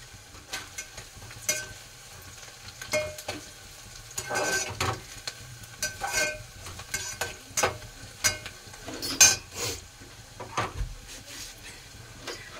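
Vegetable curry being stirred in a pan over a steady soft sizzle of frying, with irregular scraping and clattering strokes from the spoon, close and fairly quiet, no voices.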